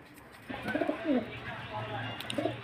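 Pigeons at a Beldanga pigeon market give a few soft, low coos in short rolling phrases, moderately close, over a faint murmur of background noise.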